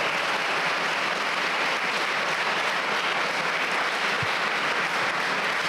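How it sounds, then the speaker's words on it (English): Audience applauding at a middle school eighth-grade awards assembly, a broad even roar of clapping from a large crowd, sustained and unbroken. "Students, give them a round of applause too."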